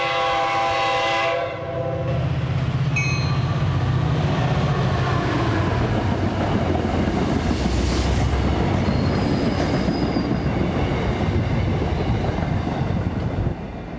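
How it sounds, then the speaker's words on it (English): A train passes right beside outdoor seating next to the tracks, opening with a loud horn blast, then a long, close rumble of wagons with squealing wheels and rhythmic clacking that stays loud to the end. "if that was the last train out of town, I just missed it"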